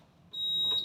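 Buzzer signal from an Erkodent ES 200 F dental thermoforming machine, a single loud, steady high-pitched electronic tone that starts sharply and holds for the rest of the brief moment.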